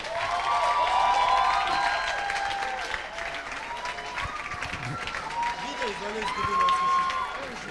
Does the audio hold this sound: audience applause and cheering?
yes